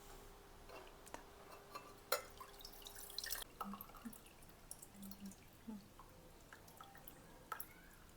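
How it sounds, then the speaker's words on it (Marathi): Beet and carrot kanji, a fermented drink left three days in a jar in the sun, strains into a glass in faint, irregular drips and small splashes, quiet and close with no talking. "आता हे आपण ह्या ग्लासमध्ये गाळून घेऊया."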